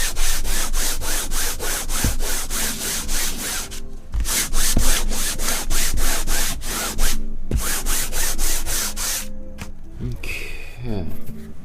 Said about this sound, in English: So I've got a 100 grit sandpaper because this is freshly gessoed.